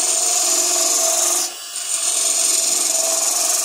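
Steady, loud shaving rasp of a lathe gouge cutting end grain wood while hollowing, continuous with a brief dip midway before resuming at full strength.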